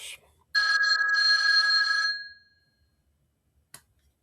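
A telephone bell rings once in a single sustained metallic burst of about a second and a half, then fades and falls quiet, followed by a brief click.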